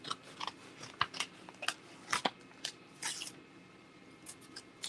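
Scissors snipping through fabric during an appliqué craft session, a series of short, crisp cuts and crunches in quick irregular succession, close and fairly clear.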